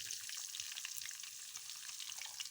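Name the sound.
frying whole cumin seeds and onion in oil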